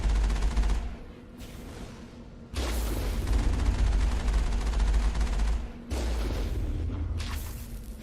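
Rockets and gunfire in the Mass Effect video game: dense, loud bursts of rapid gunfire and heavy booms in long sustained stretches, broken by short quieter gaps.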